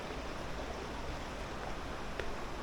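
A distant waterfall somewhere ahead in a slot canyon on Vancouver Island gives off a faint, steady rushing wash, continuous and unbroken with no voices.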